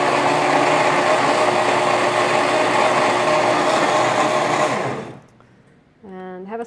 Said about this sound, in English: And then we are going to blend this on up.